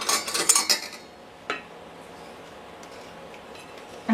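A metal teaspoon scrapes and clinks against a bowl and baking sheet while cookie mixture is scooped, with a cluster of sharp clatters at first, then one lone clink and quiet.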